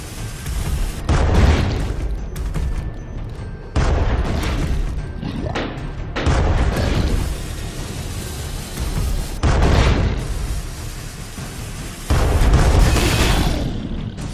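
Cannon fire and explosions in the video game Alice: Madness Returns, with a series of loud booming blasts that recur every few seconds over a dense, rumbling, crackling background.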